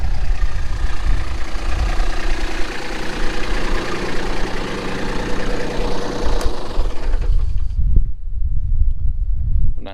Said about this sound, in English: Go ahead and shut the tractor off.